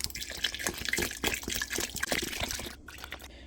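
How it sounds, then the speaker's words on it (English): Water pours steadily into a bath butter mixture for a foaming bath butter base, a close, continuous splashing trickle that stops abruptly near the end. "So next, we add the water."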